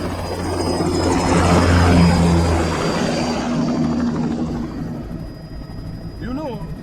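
An aircraft lifts off in the video game Metal Gear Rising: Revengeance, a loud roaring engine and rotor-like rumble swelling then easing, with a voice speaking near the end.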